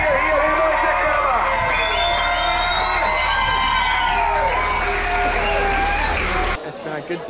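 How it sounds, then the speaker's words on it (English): A crowd at a sheepdog trial in Lochearnhead cheers and shouts steadily for several seconds, loud and close, before the noise cuts off abruptly near the end. "we'll hear a big cheer here"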